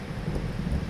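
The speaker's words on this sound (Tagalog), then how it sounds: "Lakas ng kidlat. Kumidlat ka." Heavy rain roars steadily with a deep low rumble of thunder rolling beneath it, close and continuous, with no voices, during a rainstorm in Riyadh.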